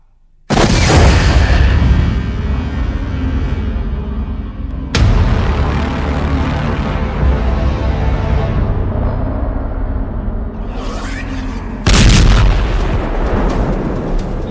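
Missile and rocket fire from Hezbollah attacks on Israel: three heavy, sudden booming blasts, each followed by a long rolling roar that fades slowly, very loud and close.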